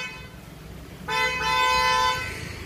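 A single sustained blast from a newly installed aftermarket horn on a Hyundai Verna car starts partway through and holds to the end. It sounds clear but a little more distant.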